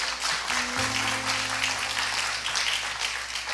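A church congregation applauds steadily, a dense wash of clapping hands filling the room, with sustained tones, likely from an instrument or organ, underneath.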